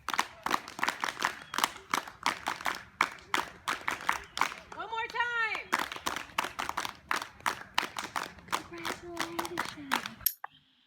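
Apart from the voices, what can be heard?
group clapping the Monroe clap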